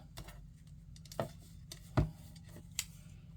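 A handheld craft punch cutting a paper shape for a Stampin' Up Paper Pumpkin card project, with a few quiet clicks and crunches spaced apart over faint room noise.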